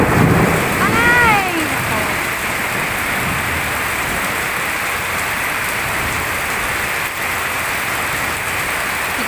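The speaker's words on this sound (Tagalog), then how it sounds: "Ayun, narinig niyo ba yung kulog?" Steady rain pours down throughout, heard from a terrace, loud and close, with a faint low rumble of thunder early on and a brief bird-like chirp near the start.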